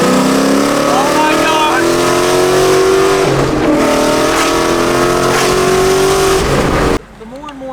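A Ford Mustang gen one Coyote V8 roars and revs hard, loud and close, its pitch climbing through a sustained pull before cutting off abruptly near the end.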